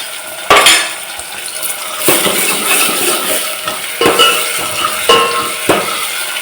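Beans fry in hot oil with spices in a pan, a soft sizzle under repeated scraping strokes and metallic clinks of a spoon against the pan, close and fairly loud, in a rural home kitchen.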